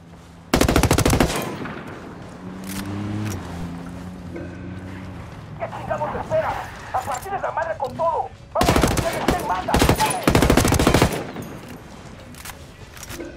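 Video game combat with bursts of rapid machine-gun fire and single gunshots, loud bursts near the start and again later, with a stretch of quieter battle noise and radio-style chatter in between.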